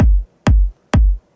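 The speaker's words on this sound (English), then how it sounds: "for our bigger kick sound, we layered low kick here, and a top kick" Three evenly spaced layered electronic kick drums for a house-style remix, each a deep booming thump from a low kick topped by a sharp click from a top kick, loud and alone.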